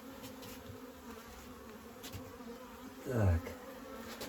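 A low, steady hum of honeybees runs throughout, with a brief louder burst near the end as a voice says a single word.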